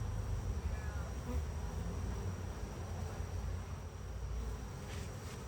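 Honey bees hum steadily around a hive just fitted with a new honey super, a dense low buzz that holds level throughout with no voices.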